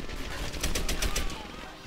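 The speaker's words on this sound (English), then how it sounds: "I hear another machine gun" Rapid machine gun bursts from the video game Medal of Honor Airborne rattle in a quick string of shots over a constant game background, moderately loud.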